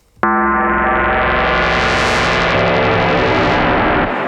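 An Ableton Operator FM synth with sync looping plays one loud sustained note that starts abruptly. Its buzzy harmonic tone brightens in a long sweep and then darkens again over about four seconds before cutting off.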